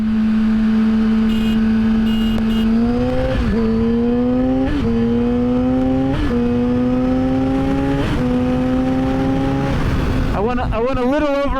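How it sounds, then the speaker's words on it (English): A 600cc motorcycle engine revving high, its whine climbing steadily through repeated gear shifts, each marked by a brief dip before rising again, loud and close throughout. "I went a little over on the revs there."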